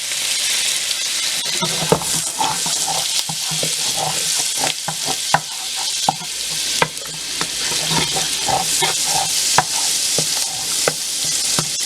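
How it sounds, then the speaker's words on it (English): Okra and shrimp fry in a pan over medium heat, giving a steady, dense sizzle with frequent scraping stirs and clinks, close and continuous with no talk. "go ahead and fry this up a little. Medium heat."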